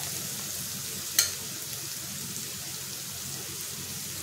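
Onions frying in a pan for crispy aloo matar rolls, with garlic added before: a steady, faint broadband sizzle throughout, and one brief sharp tick near the start with no speech.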